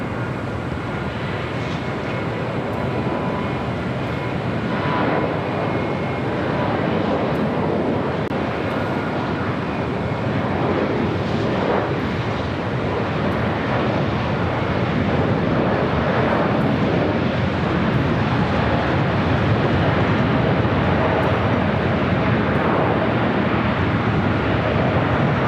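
An arriving airliner landing on runway 25 left at LAX makes a broad, continuous engine roar that holds steady and swells slightly toward the end, fairly loud and unbroken, with no voices.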